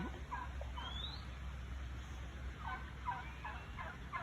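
Turkeys gobble in a series of rapid warbling bursts, fairly distant and faint, against a quiet outdoor background.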